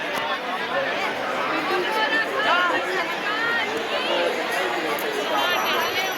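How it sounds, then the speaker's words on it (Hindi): A large crowd at Har Ki Pauri ghat in Haridwar after the evening aarti, a continuous babble of many voices with clearer nearby talk and shouts rising over the steady hubbub. "हर की पैड़ी का क्राउड"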